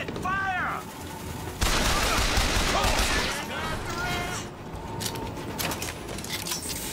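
Video game gunfire crackles in bursts over a dense backdrop of game noise, with a voice shouting briefly near the start.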